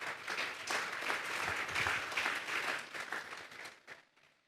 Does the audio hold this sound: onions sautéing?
no